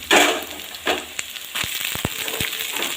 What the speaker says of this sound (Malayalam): നമ്മളിതിലേക്ക് ചെറിയ ഉള്ളി ഇട്ട് കൊടുക്കുവാണേ